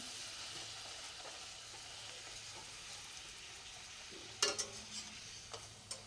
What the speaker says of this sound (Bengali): এই দেখুন, লুচি ভাজছি সকালবেলা জল খাবার খাওয়ার জন্য।